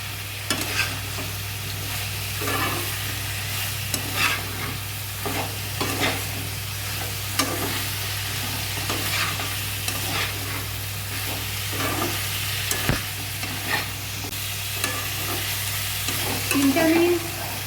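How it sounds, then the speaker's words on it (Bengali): Vegetables for a Bengali cucumber curry fry in spiced masala and oil, with a constant sizzle and repeated rhythmic scraping and stirring strokes against the pan, close and fairly loud under a steady electrical hum. "মশলা থেকে যখন তেল আলাদা হয়ে যাবে, তখন সব সবজিগুলো এখানে দিয়ে দিচ্ছি"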